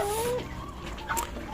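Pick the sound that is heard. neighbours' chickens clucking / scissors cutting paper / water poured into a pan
neighbours' chickens clucking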